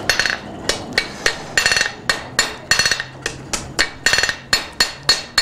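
A blacksmith hammers hot steel on an anvil, necking down the stem of a forged leaf and flower, with a dozen or so sharp ringing blows in a steady rhythm, loud and close, some struck in quick doublets.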